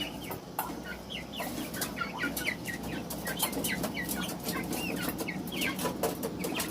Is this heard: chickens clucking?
yes